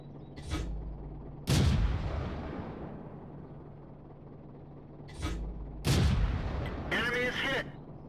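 Two loud booming cannon shots from a Churchill VII tank in the World of Tanks video game, each followed by a long decaying rumble and a sharp metallic impact crack, with a voice talking between them.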